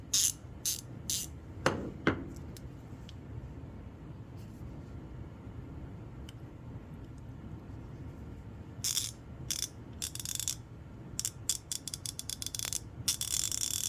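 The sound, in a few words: ratchet wrench pawl clicking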